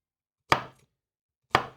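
Two separate knife strokes dicing an onion, each a sharp thud on a cutting board, about a second apart, close and fairly quiet, with no talking.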